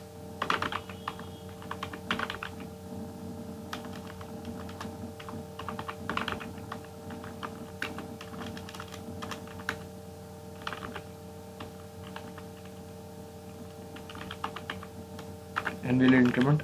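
Someone types code on a computer keyboard: a close, steady stream of quick key clicks with irregular rhythm over a constant electrical hum.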